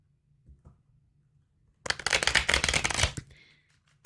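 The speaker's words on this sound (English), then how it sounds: "One more shuffle here for Sagittarius, please." Tarot cards are shuffled in one short, loud, dense riffle that follows a quiet stretch and fades into a light rustle.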